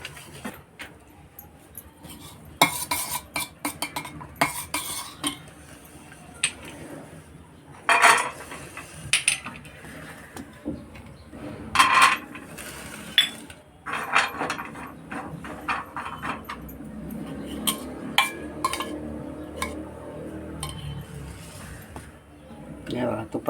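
Cashews and almonds roast in a pan for ragi ladoo, with scraping and clinking of a utensil against metal heard in irregular bursts, while someone talks over much of it.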